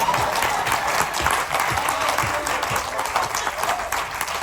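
An audience at a Hindi comic poetry recital claps steadily in a dense, sustained wave of applause.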